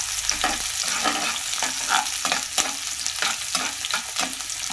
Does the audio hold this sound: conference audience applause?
no